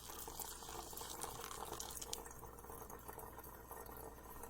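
Hot water from a kettle streams into a wall-mounted 8-cup pour-over coffee maker, a faint, steady trickling and splashing pour with no one speaking.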